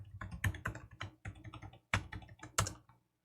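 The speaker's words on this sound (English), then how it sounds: "I'll type it again." A password is typed on a computer keyboard at close range, a quick burst of crisp key clicks with a few heavier strokes, lasting about three seconds with no voice.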